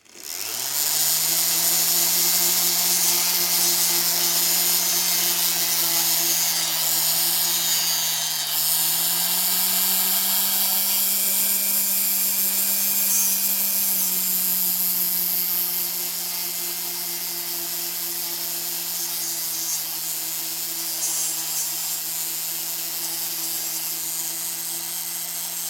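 A handheld rotary tool spins at roughly 6,000 to 8,000 RPM while working the sides and bottom of a piece, producing a close, steady high-pitched whine with a brief pitch shift midway, continuous and without talk.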